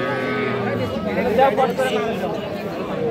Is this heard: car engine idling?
no